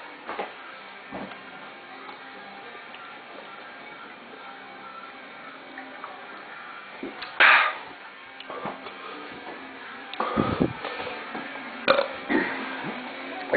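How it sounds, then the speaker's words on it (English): A burp after chugging Colt 45 malt liquor, with a few short, muffled eructations breaking through quiet room noise partway through. "I need to get this burp up."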